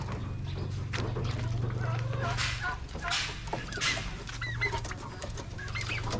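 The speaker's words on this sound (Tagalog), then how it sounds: "ayan ang ating mga pabo" Turkeys and chickens on a small farm give intermittent clucks and bird calls over a low steady hum, with a person talking nearby.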